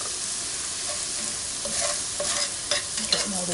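Brown sugar being stirred into a chicken skillet, melting with a steady broadband sizzle and occasional scraping clicks of the utensil against the pan, close and continuous with no talk.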